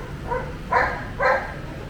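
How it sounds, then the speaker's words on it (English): A Labrador barks three times at moderate distance, one short soft bark followed by two louder ones in quick succession, with quiet background noise. "There's a Labrador barking."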